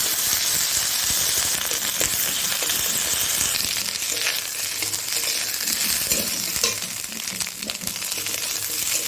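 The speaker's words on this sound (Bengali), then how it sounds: "এবার ভালো করে ভেজে নেব।" Cut kohlrabi frying with ginger paste in a hot pan, a loud, continuous close-up sizzle with occasional light clinks and stirring scrapes, no talking.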